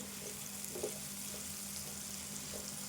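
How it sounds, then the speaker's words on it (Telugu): Onions fry quietly in a pan while being stirred, a faint, even sizzle with a soft low hum beneath and occasional light stirring touches. "ఈ ఉల్లిపాయ అయితే వేగేదాకా కలుపుకోవాలి"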